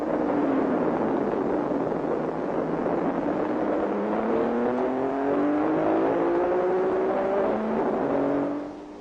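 Ferrari and Aston Martin sports racing cars at Le Mans in 1959 roar continuously through the S-bends, their engine notes rising and shifting in pitch as they pass close by, loud and steady for the whole stretch, then easing off near the end.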